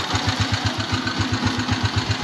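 A motorcycle engine idles steadily nearby with a fast, even putter, running alone without any voices.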